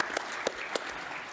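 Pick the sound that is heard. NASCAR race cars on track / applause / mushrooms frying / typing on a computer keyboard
applause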